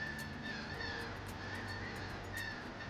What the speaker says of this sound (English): huge flocks of mooching, squawking seabirds